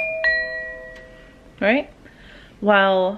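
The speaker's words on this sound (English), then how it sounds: "normally the doorbell sounds like this." A Bluetooth doorbell gives a short electronic chime, followed by two more tonal bell-like chimes, with a brief spoken word between them in a quiet room.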